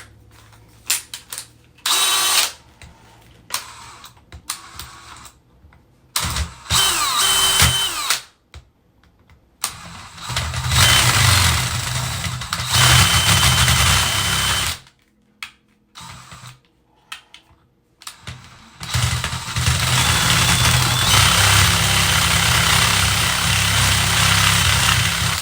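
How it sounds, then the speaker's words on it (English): A power drill bores into a bike lock with a bit whose head has snapped off, grinding loudly in long bursts separated by short pauses, with no talk over it. "It is pretty hard to drill it."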